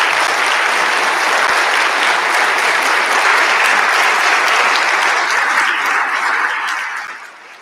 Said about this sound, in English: let's give them all one great big round of applause